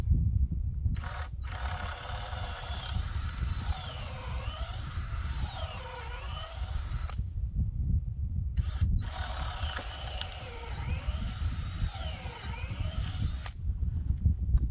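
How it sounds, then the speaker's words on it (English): A power drill bores two holes in wood for lag screws on a fence brace, running in two long bursts, its motor whining and rising in pitch, with a short pause between them. "And so I just drill 2 holes."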